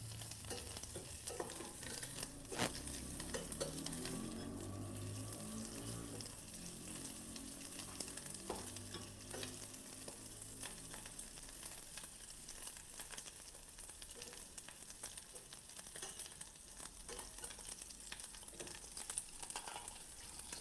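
Pork fat (toicinho) sizzles steadily in a pan as it renders oil, with repeated scraping stirs, quiet and continuous, and no one talking.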